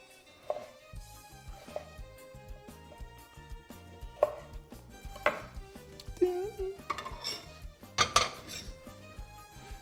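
A knife slices through tomatoes on a board in a kitchen, a few crisp chopping knocks and clinks scattered across the stretch over a steady background.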